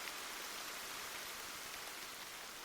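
Heavy rain pours down steadily, a dense, even hiss of water with no pauses, close and fairly loud, in a Japanese folk tale about a kappa praying for rain.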